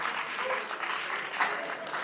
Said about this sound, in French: Merci d'applaudir pour elle.